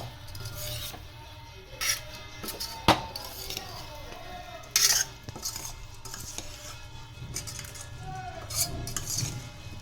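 A spoon stirs spices into vegetable pulao in a pan, quiet scraping and clinks of metal with a few sharper knocks against the pan, faint and close, no talk.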